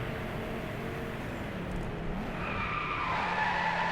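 A Ferrari FXX Evoluzione in the racing game Driveclub skids through handbrake turns, with a sustained loud tire squeal over a steady engine roar and no talk.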